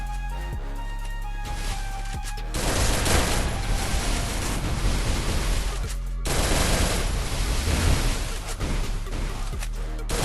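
Rapid automatic gunfire from a mobile battle royale shooter rattles in dense, loud bursts over game sound, opening with a brief musical tone before the sustained firing takes over.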